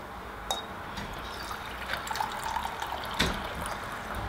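Hot water poured from a teapot, a soft steady trickle and splash of liquid with faint clinks, close and quiet, with no talking.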